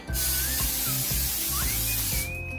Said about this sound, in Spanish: En mi caso le voy a echar mantequilla en spray